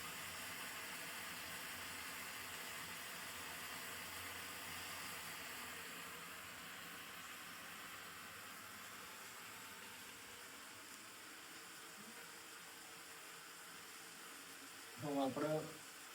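Green garlic and green chillies roasting in a pan, a steady soft sizzle and hiss throughout, with a brief clatter near the end.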